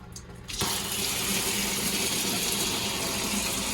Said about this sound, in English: So let me turn the water on and show you how this one works.